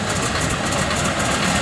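North American T6 aircraft engine, a radial-engine warbird, running steadily as it warms up at an airshow at Gelnhausen airfield, a dense continuous low rumble with broadband roar, loud and unbroken throughout.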